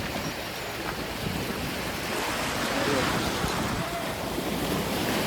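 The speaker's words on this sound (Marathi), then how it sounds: "एक कडक लाट आहे त्यात." Strong waves break on a Konkan beach near Kunkeshwar, a loud, continuous rushing surf with heavy wind buffeting the microphone throughout.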